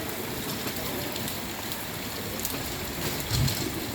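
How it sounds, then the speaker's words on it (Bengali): Heavy rain pours down steadily in a broadband wash, with a cool wind mentioned alongside it and a brief low rumble near the end; no voices are heard. "দেখেন জুম বৃষ্টি শুরু হয়ে গেছে"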